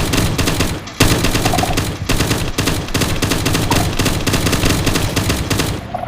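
Rapid sustained machine gun fire from a Call of Duty weapon mod in Minecraft Bedrock, loud dense bursts of automatic shots with only tiny gaps between volleys, no voice present.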